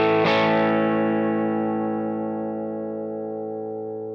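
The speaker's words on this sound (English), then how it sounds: "Here is just guitar and amp." A single electric guitar chord struck through an amplifier, ringing out full and warm and slowly decaying over several seconds.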